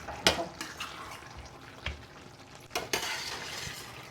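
Oil goes into a pan while chapati is being cooked at home, giving a faint sizzle with a few scraping, stirring knocks against the pan. The sound is quiet and close, with no talking.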